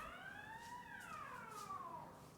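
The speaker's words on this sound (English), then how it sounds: "It's like almost a siren?" A siren wails with a rising and falling tone, fairly distant, sweeping down over a couple of seconds against quiet background.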